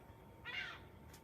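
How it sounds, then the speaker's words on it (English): A single seagull gives one brief, faint call at a distance somewhere in the Bay Area, surrounded by quiet ambient noise. "Oh, the seagull."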